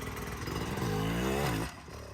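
A dirt bike engine revs hard while climbing a hill at a motocross ranch, its pitch rising and wavering as the rear wheel breaks loose, then dropping off abruptly; loud and close.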